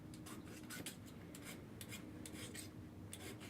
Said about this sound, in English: Use the file. Sand the blade off to where it's nice and shiny.